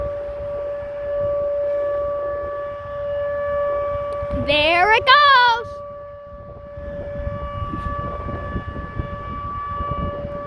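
An ATI HPSS 16R outdoor civil defense tornado siren in a graveyard winds up in a loud rising, wavering wail during a test, then fades. A person briefly exclaims over faint outdoor noise.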